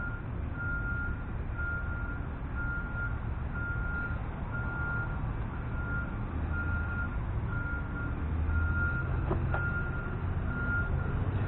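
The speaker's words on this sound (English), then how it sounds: "So you get to hear the garbage trucks backing up and down the streets around here." A garbage truck reversing along neighborhood streets, its backup alarm beeping in a regular repeating pattern. The beeps are faint and distant over a low rumble of traffic and engine noise.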